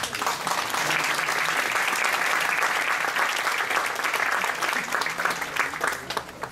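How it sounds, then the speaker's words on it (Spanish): An audience at a scientific talk on climate variability applauds a speaker's introduction, a dense, sustained clapping from many people for over six seconds before it thins out at the end. "aplausos."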